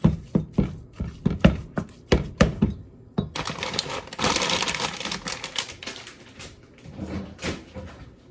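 Meatball mixture for smoked meatball subs worked by hand in a bowl: a run of sharp, evenly spaced knocks, then a longer stretch of wet, squelchy churning that fades in and out.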